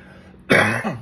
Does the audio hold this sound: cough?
yes